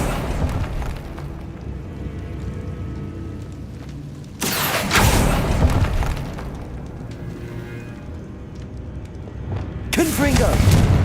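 Confringo fire-blast spell explosions in Hogwarts Legacy, two loud broadband booms a few seconds apart, each bursting over a busy bed of game ambience and effects, with a voice shouting in between.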